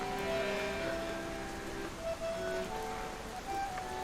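Rain falls in the Lies of P video game world, a steady, soft wash of drops over a low ambient drone and faint tonal game sounds, with no voices.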